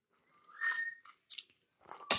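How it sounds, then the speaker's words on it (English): Smokey the parrot whistling in a living room, a brief thin tonal whistle followed by scattered clicks and rustles in an otherwise quiet room. "If you can hear the whistling, that's Smokey the Parrot."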